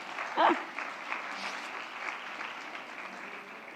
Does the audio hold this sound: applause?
yes